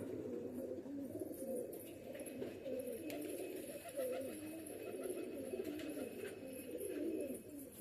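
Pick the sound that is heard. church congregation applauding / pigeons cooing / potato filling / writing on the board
pigeons cooing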